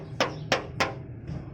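Three firm, close taps land on the front fender of a Suzuki Khyber car while it is pressed, each a short hollow metal knock. A fainter fourth tap follows, and no voices are heard.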